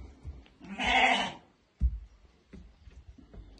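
A newborn female lamb lets out a single clear, wavering bleat up close, followed by a quiet pause and a few soft thumps and rustles in a calm indoor space.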